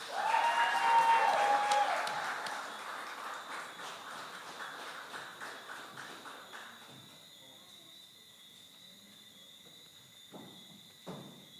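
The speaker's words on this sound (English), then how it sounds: "a round of applause for Ms. Tamika Regis" Applause breaks out at a community awards ceremony for an award recipient, strongest at the start and then thinning into scattered fading claps, with a few isolated claps near the end.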